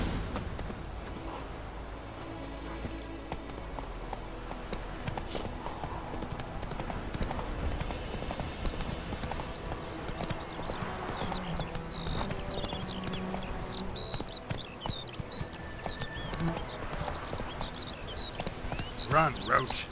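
Roach the horse galloping in The Witcher 3 video game: a quick, steady run of hoofbeats over dirt continuing throughout, backed by in-game ambience and occasional voices.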